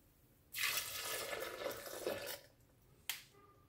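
Soya milk being poured into a blender makes a close, soft liquid rush for about two seconds that then trails off, followed by one sharp tap. It is quiet, with no speech.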